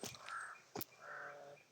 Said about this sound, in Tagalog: maraming uwak dito